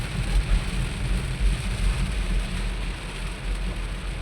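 Rain pours steadily while a car is driven slowly through a downpour, a dense continuous patter over low cabin and road rumble with no voices.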